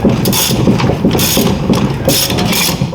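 A socket wrench ratchets steadily on the lug nuts of a 1967 Jeepster wheel, with close, rapid clicking in repeated bursts over a continuous mechanical rasp.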